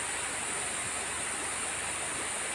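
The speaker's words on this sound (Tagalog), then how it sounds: "Talagang running water ito guys, ano?" Running river water where children bathe, a steady, close, full rush of flowing water with no other sounds.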